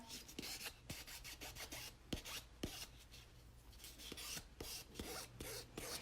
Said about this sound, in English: I always like to come in with my buffing block, and I like to shine up my edges